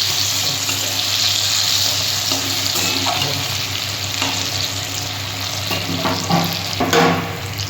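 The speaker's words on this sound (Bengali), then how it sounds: "ধোকাগুলো ভাজার জন্য আমি তেল দিয়ে দিলাম। আমি সাদা তেলেই ভেজে নিচ্ছি।" Banana-flower dhoka cakes fry in white oil in a pan, giving a steady, close sizzle that carries through the whole stretch, with a few light clinks and stirring knocks toward the end.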